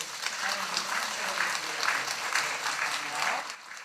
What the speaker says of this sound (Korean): 우리 박수로 우리 하나님